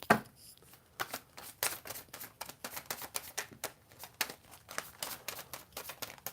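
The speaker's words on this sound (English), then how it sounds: "They're so flimsy because I've shuffled them so many times." A deck of worn, flimsy angel oracle cards shuffled by hand, giving a close run of quick crisp riffling flicks and papery rustles that repeat steadily with no voice over them.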